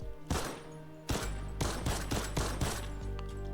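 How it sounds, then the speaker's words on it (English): The infantry rifle in Fortnite Creative fires a string of loud, sharp shots, about seven spaced bursts with brief ringing tails, followed by a couple of fainter reports at the end. "So this is the infantry rifle."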